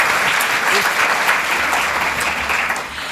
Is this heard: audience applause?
yes